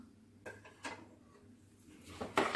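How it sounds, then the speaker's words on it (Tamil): Tempering is stirred into ven pongal in a pot, with a spoon scraping and knocking against the vessel in short, irregular bursts. These grow louder and busier toward the end against an otherwise quiet kitchen. "இப்போ இந்த தாளிச்சதை எடுத்து இதில் நம்ம மிக்ஸ் பண்ணிக்கலாம்"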